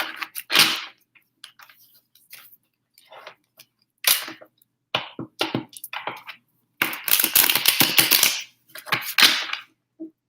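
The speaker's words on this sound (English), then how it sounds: "Let's shuffle for Virgo." Tarot cards being shuffled by hand in bursts of crisp riffling and slapping, with short clicks between and a longer, denser run of card noise near the end, close and fairly loud with no talk.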